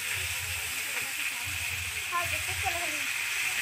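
Vegetables with salt frying in hot oil give off a steady, close sizzling hiss, with faint low clatter underneath throughout.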